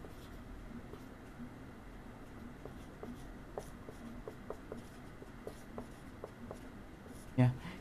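Writing on a board during a class 9 physics lesson, a series of short, light scratching strokes in a loose rhythm, fairly faint, with a teacher speaking around them.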